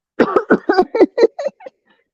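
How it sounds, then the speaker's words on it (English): A run of about seven quick coughs, close and loud, fading out toward the end. "Let me cough this one up."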